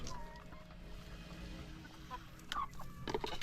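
Laying hens feeding on freshly added feed, with soft clucks and short calls rising over steady background noise near the end.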